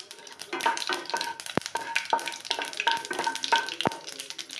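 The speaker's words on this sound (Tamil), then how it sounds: "கடுகு பொரிஞ்சிச்சு" Mustard seeds and urad dal splutter in hot oil in a kadai, a steady crackling sizzle broken by sharp pops and a couple of louder bursts, close and continuous for several seconds.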